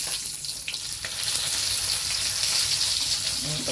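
Food frying in a pan during home lunch cooking, the contents getting burnt; a steady, dense sizzle runs throughout at moderate level, with no talk.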